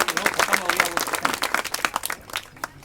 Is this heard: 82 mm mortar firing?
no